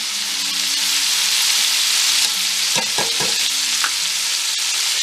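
A 2.5-pound chuck roast sears in a hot pan with a loud, steady, close sizzle and a few brief clunks as the meat is shifted.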